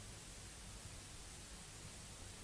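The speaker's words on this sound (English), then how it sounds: "It's a lot of vinyl noise in the background." Steady vinyl-style crackle and hiss texture from a Nebula one-shot kit, a faint, even wash of noise with no talk over it.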